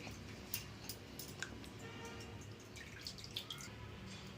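Water draining through a steel sieve holding washed gongura leaves, heard as faint, scattered drips and small ticks over a soft, steady trickle, close and quiet, with no talk.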